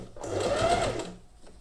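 A sewing machine stitches elastic lace trim held under slight tension, producing one steady, close mechanical whirr of about a second that rises and then fades, with nobody speaking.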